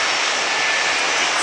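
An airplane passes overhead in a loud, steady engine roar that fills the clip on its own.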